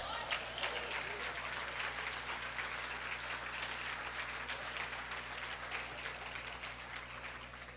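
Church congregation applauding during a sermon, a dense, steady wash of clapping throughout with faint voices mixed in.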